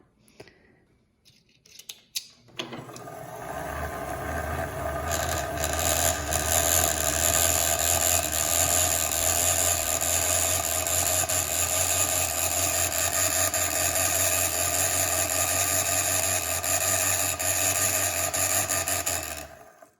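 Sewing machine motor spinning steadily as it winds a bobbin off the drive belt, starting after a couple of soft clicks and humming loud and even for the rest, with no talk over it.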